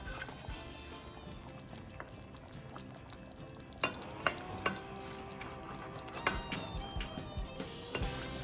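Salmon coated in barbecue sauce sizzles steadily in a pan on a stovetop while being turned, with a constant frying hiss punctuated by sharp utensil clatters against the pan.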